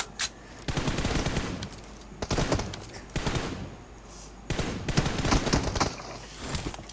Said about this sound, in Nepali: जतिचोटि उफ्रिन्छ यार त्यतिचोटि गोली लगाइदिन्छ यार